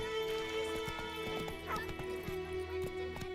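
Roach the horse galloping in The Witcher 3: quick clip-clop hoofbeats in a driving rhythm, together with a brief whinny, heard over steady game music and ambience.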